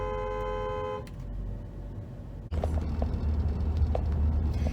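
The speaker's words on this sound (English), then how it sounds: "I'm not driving, but I'm going to press this horn and listen the sound." A car horn sounds from a stationary car as one steady, loud tone lasting about a second, followed by a quieter pause and then the low rumble of the car's engine.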